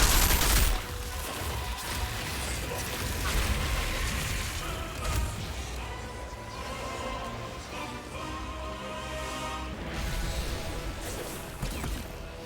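Explosions and rapid gunfire in the shooter game Outriders Worldslayer, a loud opening blast followed by dense crackling fusillades and booms that roll on continuously.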